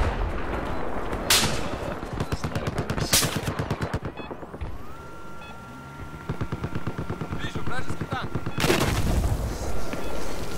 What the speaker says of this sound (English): I think we're getting mortared. Yep, mortar time.